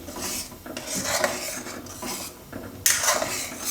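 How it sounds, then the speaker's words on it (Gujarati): Fruit being cut for a sabudana fruit salad, with repeated scraping and knife-on-board clatter in bursts and pauses, close and fairly loud, with no voices. "બધું ફ્રૂટ આ રીતે આપણે સુધારશું"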